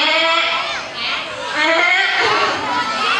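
Teacher's voice imitates a sheep bleating during a children's story performance, a continuous wavering bleat lasting several seconds, loud and close, with some background chatter.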